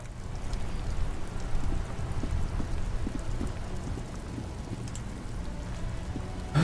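Rain falls in the video game Disco Elysium during a traffic jam scene, a steady soft patter with low rumbling underneath, continuous throughout and free of talk.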